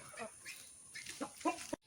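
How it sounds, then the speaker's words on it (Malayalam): Chickens kept with ducks in a backyard flock give a few short clucks and calls, close and moderately loud, with brief pauses between them and no talk over them. "ഇതാണ് ഞങ്ങളുടെ കോഴിയും താറാവും"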